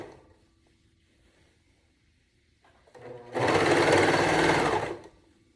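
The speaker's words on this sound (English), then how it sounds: "Keep going all the way around. Sewing at a 3/8 inch seam allowance." Sewing machine stitching the side seams of reversible swim bottoms at a 3/8 inch seam allowance, a quiet handling rustle first, then a loud steady whirring run of about two seconds that stops abruptly.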